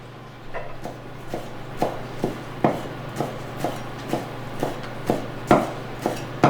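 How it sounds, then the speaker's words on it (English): A knife chops food on a cutting board in a kitchen, with about a dozen sharp, evenly spaced thuds sounding close over a low steady hum. "if you keep your thumb on the side but your finger down, that's the easiest way to chop"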